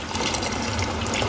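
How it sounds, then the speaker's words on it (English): Hot water pours steadily into a pot of lamb curry, a continuous gushing, splashing rush at close range with no talking. "Now I'm going to add some hot water, so then let it cook itself then."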